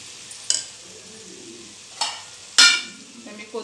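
Coriander stirred into simmering pawta usal in a pan, with a low steady sizzle broken by three sharp scraping stirs, the last one loudest, heard close with no voices.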